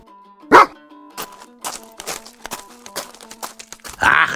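Sharp dog barks ring out in a quick irregular series, the first loudest, over sustained musical tones in a Kyrgyz mountain fairy-tale cartoon, with a crinkling burst at the end.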